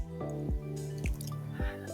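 Deionized water goes into a vinyl record cleaner, heard as three or four distinct close drips or plops over a steady low hum.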